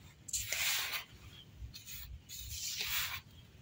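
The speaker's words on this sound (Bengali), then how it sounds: "এবার আমি এই শুকনো উপকরণগুলোকে একসাথে ভালো করে হাত দিয়ে এইভাবে মেখে নেব।" Dry gulab jamun ingredients, crushed Parle-G biscuits and milk powder, being mixed by hand, giving two soft broad rubbing swishes close by with a brief pause between them.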